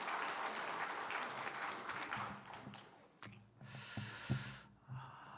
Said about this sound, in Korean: 우리 두 분에게 격려의 박수 한번 보냅시다.